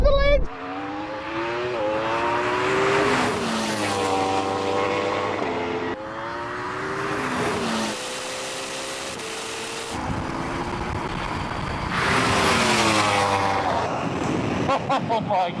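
A Yamaha R1 superbike drag races a Porsche Taycan Turbo GT and a Ferrari SF90 on an open strip: loud engine notes climb steeply and drop with each gearshift, over and over, with wind rush buffeting the microphone throughout.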